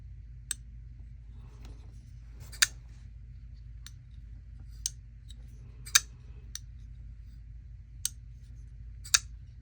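A Fortis folding knife from Dashkoff Knives and ClarkMods gives a series of sharp, crisp clicks, about nine spaced irregularly over a quiet low hum, close and distinct.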